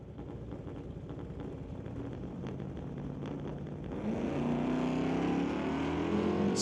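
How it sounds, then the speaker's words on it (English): Two Chevelle drag cars, the Zapstrap Racing and Muffler Tech Automotive entries, racing down an eighth-mile strip, a continuous engine roar heard from a distance that swells louder near the end. "The Zapstrap Racing Chevelle going at it against the Muffler Tech Automotive Chevelle"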